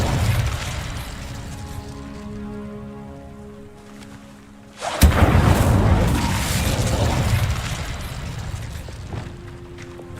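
The Incendio fire spell being cast in Hogwarts Legacy: after a quieter tonal stretch, a sudden loud whoosh bursts in and settles into a dense, roaring crackle of flame that carries on steadily.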